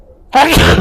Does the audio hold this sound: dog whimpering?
no